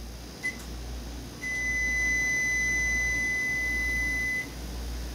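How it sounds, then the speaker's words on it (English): A Frigidaire microwave gives a short chirp, then one long steady high beep lasting about three seconds over a low hum, clear and close in a quiet room. "It's way too long and it keeps on beeping even after you've already opened the door."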